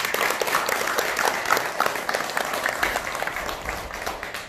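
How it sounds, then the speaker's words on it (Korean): Sustained applause from a congregation at a Buddhist temple dharma service in a main hall, steady dense clapping throughout without pause. "우리 감사의 찬탄의 박수 한번 부탁드립니다"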